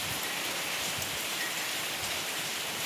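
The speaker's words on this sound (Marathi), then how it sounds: "पाऊस पडतोय" Heavy rain falls steadily outdoors in a dense, even hiss of drops striking surfaces, close and continuous, with no voices.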